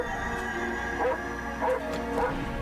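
Petey the dog in 7 Days to Die gives a few short barks and yips in quick succession, each one close by and clear over a steady electronic hum.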